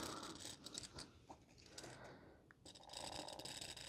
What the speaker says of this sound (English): And then we're going to cut it out.